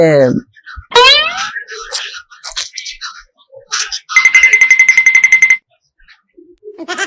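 A mobile phone ringtone rings unanswered in a comedy sketch, a bright pulsing electronic melody lasting under two seconds, with voices and other short sounds around it.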